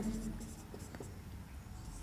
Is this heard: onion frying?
no